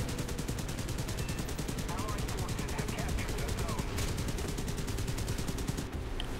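Aircraft cannons in War Thunder fire as a fast, continuous automatic rattle that stays dense and loud the whole time, with engine drone underneath.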